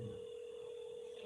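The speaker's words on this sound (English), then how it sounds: "That was until one day when Eric received a phone call." A telephone sounds a steady electronic tone, a sustained ring or dial signal held throughout at low volume without any speech.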